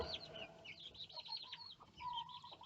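Several chickens cluck and squawk in short, overlapping bursts, fairly faint against steady background noise, with no one talking.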